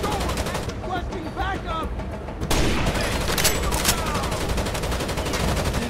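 Gunfire in the tactical shooter game Rainbow Six Vegas 2, a steady stream of shots and bursts that grows denser and louder partway through, with players talking over it.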